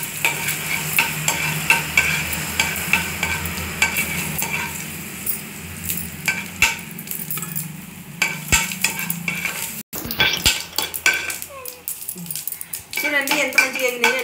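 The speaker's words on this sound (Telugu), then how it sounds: "ఎండుమిర్చి శనగపప్పు ఆవాలు వేగినాయి కదా" Dried red chillies, chana dal and mustard seeds fry in hot oil, crackling and sizzling continuously while a spoon stirs and clinks against the pan, with some background talk near the end.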